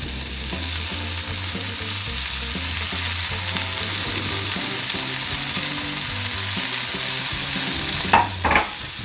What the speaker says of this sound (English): And now I will add in the ground beef.